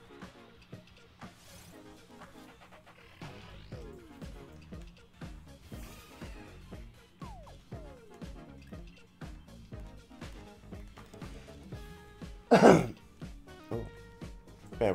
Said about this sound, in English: still got a bit of that cough.